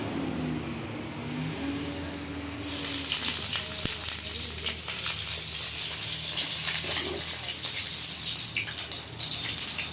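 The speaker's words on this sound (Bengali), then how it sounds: "কড়াইতে দিচ্ছি আমি সরষের তেল" Mustard oil hitting a hot wok on a gas flame, setting off a sudden loud, steady broadband hiss after a quieter start, with faint background hum and no talk.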